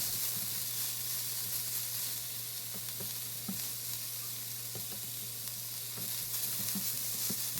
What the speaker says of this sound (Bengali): কিছুটা পরিমাণ ধনিয়া পাতা দিয়ে দিচ্ছি তারপর এগুলিকে কিছুক্ষণ ধরে নেড়েচেড়ে নামিয়ে নিচ্ছি